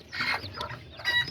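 Azteca hen, a broody mother clucking in short, soft bursts close by, with a brief louder squawk near the end.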